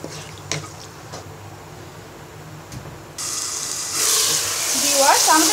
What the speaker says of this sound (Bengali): এবার পরিমাণ মতো পানি দিয়ে মশলাটাকে কষিয়ে দিব।